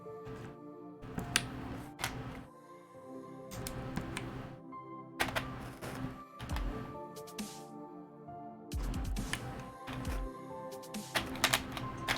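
Typing on a Rukia mechanical keyboard fitted with lubed 78g Zykos switches, bursts of close, rapid keystrokes separated by short pauses, the clacks running in quick clusters with no talk.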